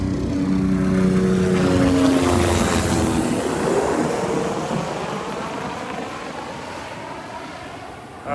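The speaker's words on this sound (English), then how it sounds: "one of the spray helicopters coming right up over me, right up overhead." A mosquito control spray helicopter passes low overhead above a beach, its rotor drone loud and steady with a wavering pitch, then slowly fading as it moves away, with wind rushing across the microphone.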